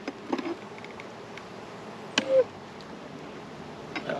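Bees buzz around a beekeeper's resource hive on a windy day, a low continuous hum with a few individual bees zipping close past now and then.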